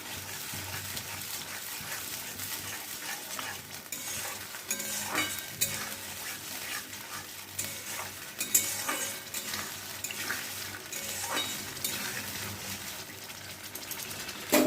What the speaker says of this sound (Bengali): এবার তেলের মধ্যে মশলাটা দিয়ে দিলাম। মশলাটা দেওয়ার পরে ভালো করে একটু কষিয়ে নিতে হবে